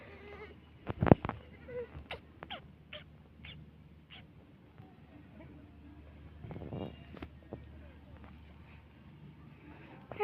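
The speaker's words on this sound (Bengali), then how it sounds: "এই যে আমাদের এগুলো ছাগল," Goats bleating on a rural homestead, several short calls scattered over the stretch, fairly close, with a louder burst early on and quiet background noise between.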